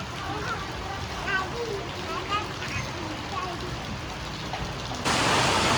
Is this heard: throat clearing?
no